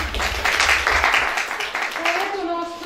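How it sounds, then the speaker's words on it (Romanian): Audience at a school poetry competition applauds the jury president, a burst of hand clapping in a hall that swells and then fades, with a voice speaking as the clapping tapers off. "Vă rog să o aplaudați."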